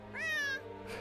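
A cat in the video game Gravity Rush 2 gives a single clear, close meow that rises and falls over a faint steady hum, then a brief softer sound follows.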